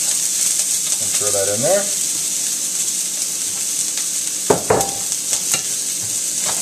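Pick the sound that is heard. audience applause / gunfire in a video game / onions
onions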